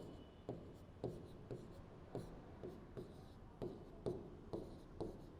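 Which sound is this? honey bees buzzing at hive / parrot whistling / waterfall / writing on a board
writing on a board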